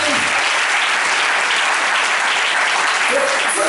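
A church congregation bursts into loud, sustained applause, with a dense, even clatter of many hands clapping close by for several seconds.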